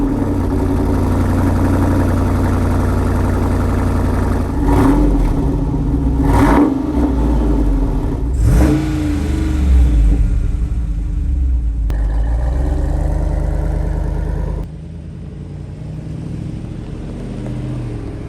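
Jeep Wrangler Rubicon 392 with the Extreme Recon package driving off-road, its V8 engine rumbling loud and close with a few revs rising over the steady drone before settling lower near the end.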